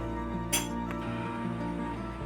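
A lid set down over a pot of chole, giving a single bright metallic clink against steady kitchen background hum.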